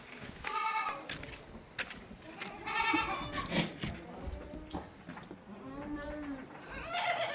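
Goats bleat repeatedly in their pen on a village farm on a rainy day, several overlapping calls near and far with steady farmyard background, and a voice speaks briefly among them.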